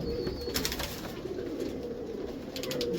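Indian pigeons at a loft coo in a low, continuous murmur, several birds overlapping at close range with steady background noise and no talk.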